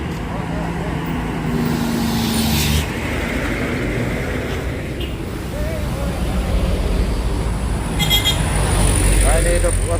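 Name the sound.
tanker truck engine running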